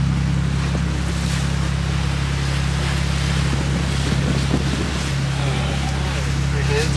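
A boat pounds through rough, windy waves on Lake Erie, with steady engine drone, heavy wind buffeting the microphone and constant water rush, loud and unbroken throughout.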